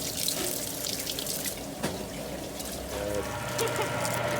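Tap water runs steadily into a sink while sugar cane is rinsed, a continuous close splashing flow with small clinks and handling noises over it.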